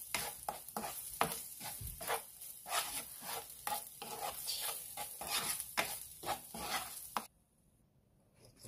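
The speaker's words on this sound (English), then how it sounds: "And stir it in, take it off the heat." Quick, steady scraping of a spoon through a sticky brown-sugar dip in a pan over low sizzling heat, repeating in a fast rhythm for about seven seconds, then stopping abruptly into near silence.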